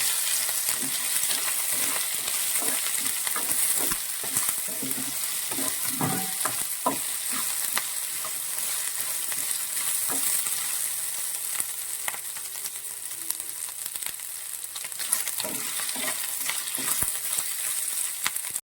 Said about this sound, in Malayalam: പച്ചമുളക് ഇതുപോലെ വട്ടത്തിൽ കുറച്ച് കൂടുതൽ അരിഞ്ഞെടുത്തിട്ടുണ്ട് ഇതൊന്ന് നന്നായിട്ടൊന്ന് വഴച്ചെടുക്കാം